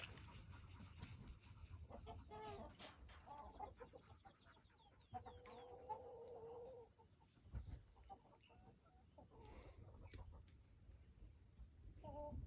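Black Copper Marans chickens clucking and squawking in a farmyard during a rooster mating, with scattered hen calls and brief flurries of movement, while a person talks intermittently nearby.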